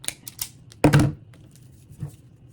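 Klein wire stripper snipping through the black, white and red wires of Romex cable: a few sharp clicks lead into one loud crisp cut near the start, then a softer snap follows, all close and quiet in between.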